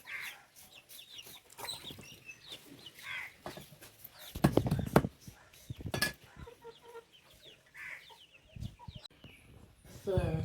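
A chicken clucks intermittently nearby in short bursts, with some louder squawks and scattered rustling and background noises in between.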